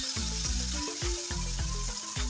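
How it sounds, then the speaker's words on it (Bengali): Dried shrimp sizzle as they fry in hot oil in a home kitchen, a loud continuous crackling hiss with low rhythmic thumps underneath, and no talking. "তেল গরম করে এখন চিংড়ি মাছ ভাজি করব"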